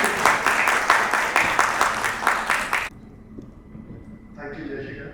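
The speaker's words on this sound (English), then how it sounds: "Please welcome him on stage with a huge round of applause." Audience applause welcomes a speaker on stage at a BRICS Chamber of Commerce & Industry event. Dense, loud clapping fills the first three seconds, then stops abruptly, leaving quiet room tone and a faint later rustle.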